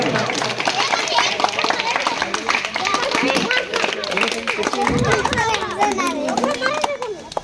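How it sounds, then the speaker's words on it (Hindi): Audience clapping to welcome a speaker at an outdoor village jayanti gathering, lively scattered claps amid children's voices and crowd chatter, with people talking throughout. "साथियों ताली के साथ स्वागत करेंगे।"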